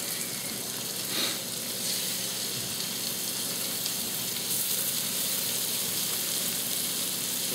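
Thick pork chops fry in butter and bacon grease over medium heat, a steady dense sizzle with faint crackles that stays even and close throughout.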